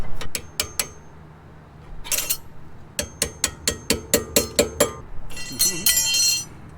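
Sharp metallic taps of a hammer and punch driving out the pins on a four-piston brake caliper come as a quick series of close, ringing strikes, with a brief scrape or rattle between the bursts.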